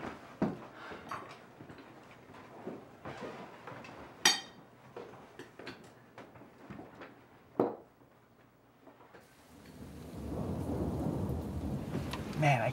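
Steady rain falls through a thunderstorm, with sharp cracks and deep rolls of thunder scattered across the stretch and the downpour swelling louder and heavier toward the end, with no one speaking.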